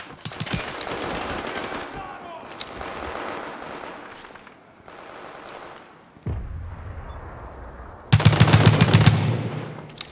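Gunfire in a World War 3 video game: sustained bursts of automatic fire with heavy booms and a dense, loud volley near the end, with talking mixed in.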